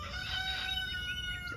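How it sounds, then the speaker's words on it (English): Chickens crowing with a drawn-out rooster call over soft clucking, close and steady, with no talking. "The chickens just insist on interrupting me"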